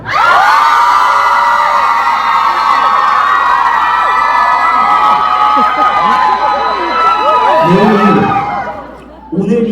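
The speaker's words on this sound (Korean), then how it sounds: "그럼 함성 질러보세요" Concert crowd at a gugak trot concert cheering loudly on cue, a dense wall of shrieks, whoops and shouting that holds steady and then drops off sharply near the end.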